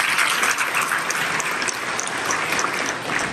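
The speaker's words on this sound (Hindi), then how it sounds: "बॉस भाई के लिए तालियां बजा करके दिखाया मैंने" An audience at a Digital Orangi session applauds, with steady dense clapping that carries on for the whole stretch at a fairly loud, even level and shows no clear breaks.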